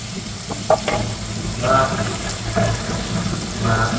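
Butter sizzles on a hot sizzling plate for Filipino bangus sisig, a steady close frying hiss with light clinks and stirring over it.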